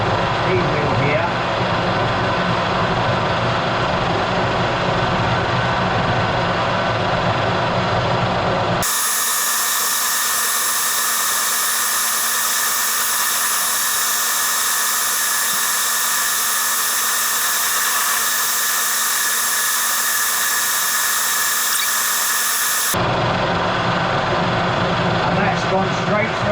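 A cutting tool bores into a locomotive axle through the back of the wheel, giving a loud, steady high-pitched whine that drowns out everything for about fourteen seconds, with rougher machine noise before and after.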